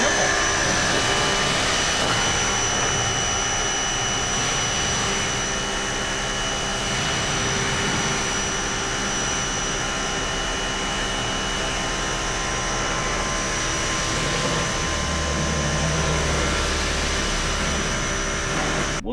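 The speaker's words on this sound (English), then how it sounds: "then we'll go back to our pressure washer and rinse it off" Pressure washer rinsing a car panel, a loud steady high-pitched whine and hiss of spraying water that continues unbroken, with faint talk in the background.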